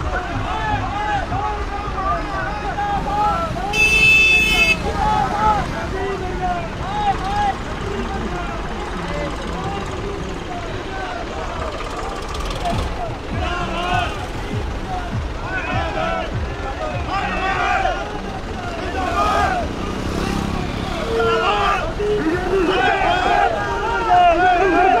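Tractors rumble through a farmers' protest tractor parade, a continuous rough engine drone with wind buffeting the microphone, while voices talk loudly over it throughout.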